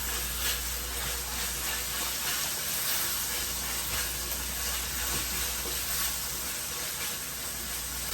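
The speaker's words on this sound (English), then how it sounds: "All right, give it a good stir." Ground beef with barbecue sauce is being stirred in a hot pan. A steady, even sizzle runs throughout with soft scraping underneath. There are no voices.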